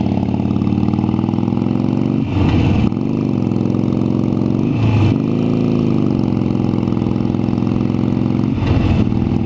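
Motorcycle riding through city traffic, the engine holding a steady mid-pitched drone with three short revving bursts as gears shift, loud and close over constant wind rush.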